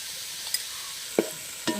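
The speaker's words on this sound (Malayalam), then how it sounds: "നമുക്കിനി സവാള ഇട്ട് കൊടുക്കാം പകുതി മതി സവാള വഴണ്ടി വരാൻ വേണ്ടി നമുക്ക് ഉപ്പും കൂടെ ചേർത്ത് കൊടുക്കാവേ" Sliced onions frying with salt in a pan for beef biryani, a constant close sizzle with a few light clinks of a spoon stirring.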